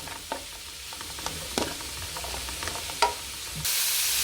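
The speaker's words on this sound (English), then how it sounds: "So as we're frying this down" Onions fry in a pan for Mauritian chicken fried rice, a soft sizzle punctuated by several sharp scraping clicks of stirring, then a sudden louder hiss at the end.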